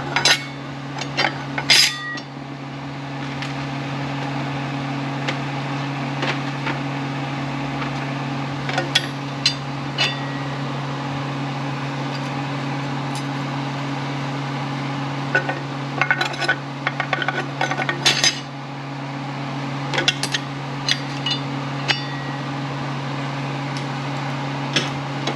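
Light metallic clinks and clatter come intermittently as steel clutch plates are placed into a 6T40 transmission during a rebuild, over a steady low hum in a workshop.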